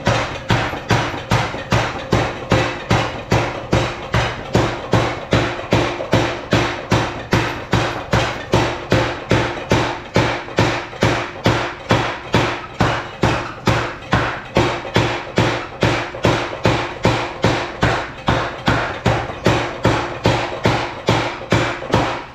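A big green 1910 power hammer forges an axe at a blacksmith's forge, pounding out a fast, relentless, evenly spaced stream of heavy blows that runs on without pause, loud and near, with no talk.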